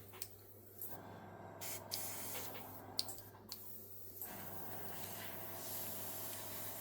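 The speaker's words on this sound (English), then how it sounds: "airbrush on" An airbrush sprays a couple of drops of cleaner in short, close hissing bursts separated by brief pauses and small clicks.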